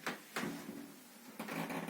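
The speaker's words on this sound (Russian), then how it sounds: "А это одна сторона, левая дверца, слегка приоткрывается и стучит." A slightly ajar left wardrobe door knocks at night, giving three short, soft wooden taps at uneven intervals in a quiet room.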